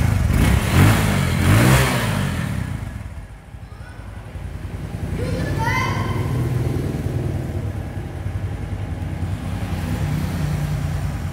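A Honda Anpha motorcycle with a modified 125cc engine idles nearby with a steady mid-pitched rumble, gets revved up in a couple of rising bursts, then settles back to a running idle.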